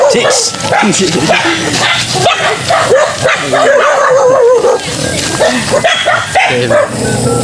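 Several dogs bark and yip excitedly at close range, overlapping in rapid bursts, with some whimpering mixed in.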